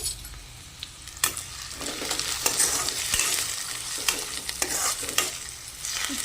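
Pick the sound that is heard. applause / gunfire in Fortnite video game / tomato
tomato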